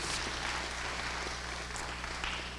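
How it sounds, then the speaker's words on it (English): Audience applause at a Fisk University honors convocation, steady sustained clapping from a large hall crowd, fairly faint and continuous throughout. "you ought to just give Fisk a great round of applause for being Fisk"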